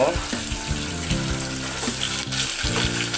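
Onions, ginger paste and sliced green chilies fry in hot oil in a pan, sizzling loudly and close, with intermittent stirring scrapes over the steady crackle.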